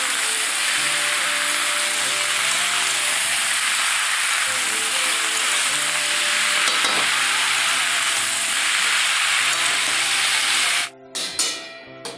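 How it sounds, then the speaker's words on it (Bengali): Vegetables with salt stir-fry in a hot pan with steady, loud sizzling and scraping stirs throughout, ending abruptly near the close with a few brief clatters. "দিয়ে এবার সারাক্ষণ ভাজবো।"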